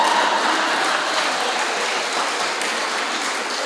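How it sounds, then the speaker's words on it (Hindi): Audience applause at a Hindi kavi sammelan comedy poetry event at Subharti University, a dense, steady wash of many hands clapping throughout, fairly loud and continuous with no voices over it. "पर यहाँ तो तालियां भी बजा रहे हैं"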